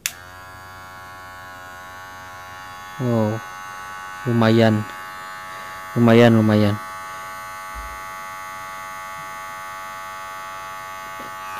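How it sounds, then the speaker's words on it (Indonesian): A Kemei KM-2601 electric hair clipper hums steadily and loudly throughout with a constant motor buzz, while a person speaks a few short phrases over it. "standar mesin cukur yang lainnya."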